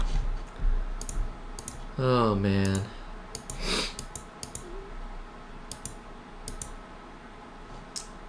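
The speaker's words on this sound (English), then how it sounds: "This one requires so much clicking." Rapid, light clicking from a computer mouse during AdventureQuest Worlds gameplay, steady small taps running under a voice and brief bursts of game sound effects.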